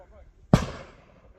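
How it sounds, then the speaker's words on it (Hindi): A single firecracker bursts with a sharp, loud bang near a forest where langurs are being chased off, and the sound trails into a short echoing decay. It is set against an otherwise quiet outdoor background. "पटाखे फोड़ दिए वो।"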